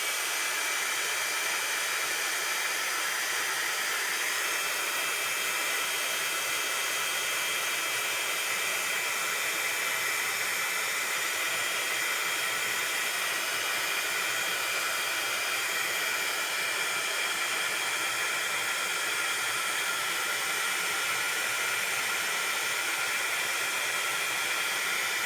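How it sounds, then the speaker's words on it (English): A heat embossing tool blows hot air steadily over stamped ink on a card, a loud constant hissing roar that holds unbroken for the whole stretch with no voices. "we're gonna just run our heat tool over it just to dry it. Sorry, this is a little bit noisy"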